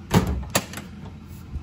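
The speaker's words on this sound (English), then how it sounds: "all front face latch doors." Front-face latch cabinet doors inside a trailer being worked: two or three quick, close clacks of a latch and door closing in about a second and a half, with no talk.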